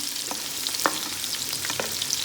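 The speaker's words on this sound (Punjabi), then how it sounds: "ਪਿਆਜ਼ਾਂ ਨੂੰ ਆਪਾਂ ਭੁੰਨਣਾ ਹੈਗਾ ਆ ਹੌਲੀ ਹੌਲੀ ਹੌਲੀ ਹੌਲੀ ਇਸ ਦੇ ਵਿੱਚ ਆਪਾਂ ਫੇਰੀ ਜਾਣਾ ਕੜਛੀ" Onions fry in a pan while a ladle stirs them slowly, giving a steady close sizzle with soft scraping strokes and light clinks, and no talking.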